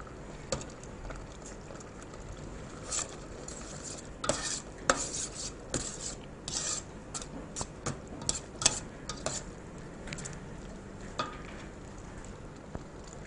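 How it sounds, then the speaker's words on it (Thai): A utensil stirs ham simmering in coconut milk in a pot, with irregular scraping and clinking strokes over a soft bubbling sizzle. The sounds are close and there is no talk. "แต่ในขณะเคี่ยวเราก็ต้องคนนะคะ เพื่อให้แฮมมีความนุ่มแล้วก็ซึมตัวน้ำกะทินะคะ"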